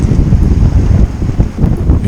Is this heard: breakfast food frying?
no